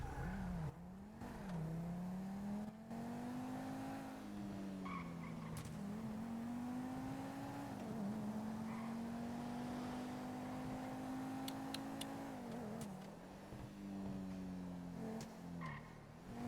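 A Z10 car driving in a roleplay video game, its engine droning steadily and rising and falling in pitch as it accelerates, with brief tire squeals, heard alone at low level.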